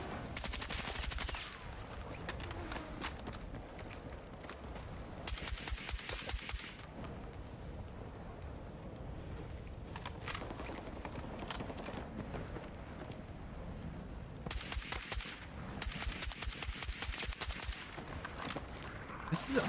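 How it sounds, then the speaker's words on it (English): Assault rifle fire in the video game Battlefield 6 comes in several loud, rapid automatic bursts separated by quieter stretches, with a voice talking in between. "This is an assault rifle."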